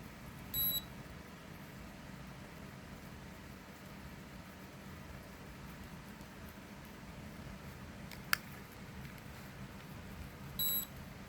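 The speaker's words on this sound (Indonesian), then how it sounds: "Dia akan bunyi bip sendiri" A Nu Skin beauty device beeps by itself, giving two short electronic bursts about ten seconds apart with a sharp click between them, faint against a quiet, steady hiss.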